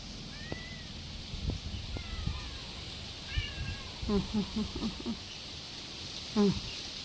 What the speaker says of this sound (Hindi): वहाँ से आम के पेड़ में जाके वहाँ से म्याऊं म्याऊं कर रहा है।